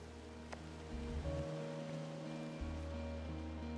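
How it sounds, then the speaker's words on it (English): Steady rushing water from a waterfall in the video game Firewatch, a continuous broad wash with low rumbling tones and game ambience layered underneath. "It's a really nice waterfall down here"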